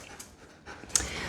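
A dog pants nearby in quick, soft breaths that grow a little louder toward the end.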